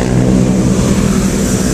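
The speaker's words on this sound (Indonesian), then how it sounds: "Ini ada bus oplok medium." A medium-size bus passes close by, its loud engine rumble steady and broad throughout the short moment with no voices.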